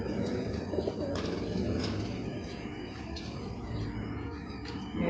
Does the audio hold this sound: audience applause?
no